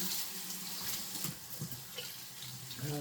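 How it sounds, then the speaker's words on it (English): Hands are washed under a running kitchen tap, a steady close rush of water with small splashing changes as the hands move through the stream, no talking. "I did already wash my hands, but I am gonna wash them again"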